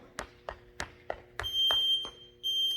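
A CrossFit class's workout interval timer sounds a high electronic beep, held briefly and then repeated, over a run of regular thumping footfalls or taps in a gym.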